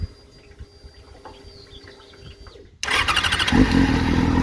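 A quiet room with faint clicks, then a Yamaha FZ6 motorcycle engine with about 50,000 km on it suddenly fires up and settles into a loud, steady idle rumble.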